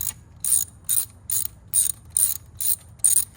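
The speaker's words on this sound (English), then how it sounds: "it's gonna be a T27 to take the screw out of here" T27 Torx screw on a Harley-Davidson part being backed out with a ratchet driver, giving about eight crisp, close ratcheting clicks in an even rhythm, each a short bright burst with quiet gaps between.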